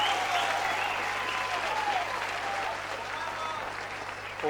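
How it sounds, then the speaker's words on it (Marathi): Audience at a stage show applauding loudly for actor Makarand Anaspure, dense sustained clapping throughout with voices mixed in underneath. "जोरदार टाळ्या झाल्या पाहिजेत मकरंद नासपुरे यांच्यासाठी"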